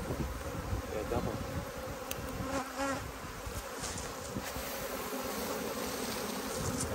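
Swarm of honeybees caught at Easter, a dense continuous buzzing drone close by, steady throughout with faint background voices.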